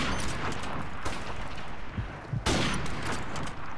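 Dense gunfire rattles nonstop in a Call of Duty Remastered match, overlapping bursts and shots forming a loud continuous barrage with a couple of heavier impacts midway.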